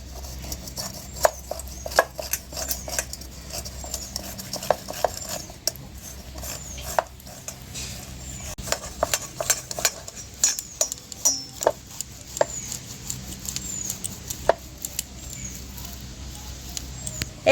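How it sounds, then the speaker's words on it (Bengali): Boiled eggs are scraped against a grater in a kitchen, a series of quiet, irregular scratchy ticks and taps spread over a long stretch, with occasional soft background noise. "এই ডিমগুলোকে গ্রেট করে নেব।"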